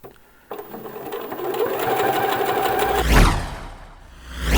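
A sewing machine stitches a T-shirt neckband, its motor running in a fast, steady close-up whir that speeds and slows briefly near the end, with no speech.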